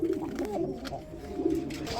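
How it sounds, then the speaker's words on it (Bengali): Red Rasgolla pigeons coo softly in a short burst, low rounded calls repeating over a faint background murmur. "এটা হচ্ছে রাসগোল্লা কবুতর"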